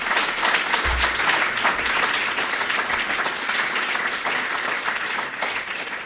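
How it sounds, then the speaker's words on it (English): Sustained audience applause fills the hall at an enterprise awards ceremony, steady and dense clapping from a large crowd that carries on throughout without a break. "So a round of applause please for her and spread them out."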